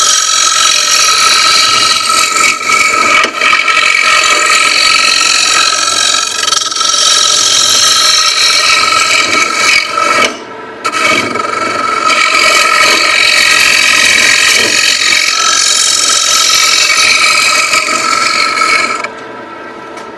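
A wood lathe hollows out a deep bowl, making a loud, continuous scraping and whirring cut with only one brief pause midway and a drop near the end.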